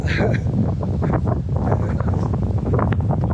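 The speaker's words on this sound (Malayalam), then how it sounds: "അതിഭയങ്കരമായ കാറ്റാണ്" Strong mountain wind near Agastyarkoodam peak, amid mist, roars and buffets the microphone continuously, drowning out faint, muffled sounds underneath.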